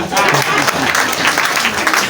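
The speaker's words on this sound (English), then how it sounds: "Can you clap for him?" A crowd claps steadily and densely for a couple of seconds at a student centre anniversary celebration in Kampala, a continuous wash of applause filling the room.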